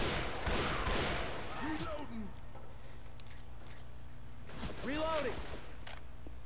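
Gunfire in the Left 4 Dead 2 video game comes in bursts of rapid shots, with someone talking over the action and pauses between volleys.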